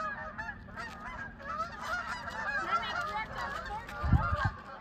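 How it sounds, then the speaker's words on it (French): A flock of geese honks continuously and fairly close in a quiet rural spot with few cars, the overlapping calls tumbling over each other, with a low thump or voice breaking in near the end. "Avec les beaux oiseaux derrière."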